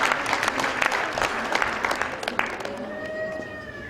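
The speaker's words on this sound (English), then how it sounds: "Could we have another round of applause for our comedian," An audience applauds a comedian in a dense burst of clapping at close range that fades after a few seconds. A faint tone rings out as the applause dies away.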